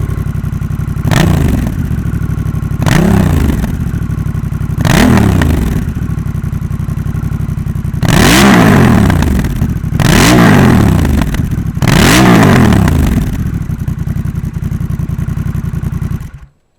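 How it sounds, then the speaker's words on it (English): A 2021 Honda Rebel 1100 motorcycle fitted with a Coffman's Shorty exhaust revs hard six times in close succession, each sharp loud blip rising and falling back to a rumbling idle, heard up close with no talking. "Now I'll rev it up and get the full sound test again."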